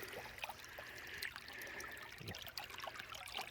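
High creek water flowing, a faint steady trickling and babbling rush with small splashes, heard from a distance and quiet overall.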